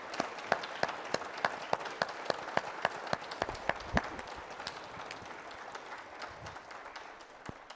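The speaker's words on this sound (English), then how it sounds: "Let's give them a round of applause" Applause from a crowd at an alumni banquet honouring a group: brisk, sharp individual claps ring out densely at first, then thin and soften into a scattered patter before fading.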